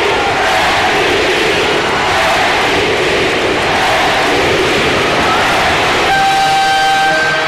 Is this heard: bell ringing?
no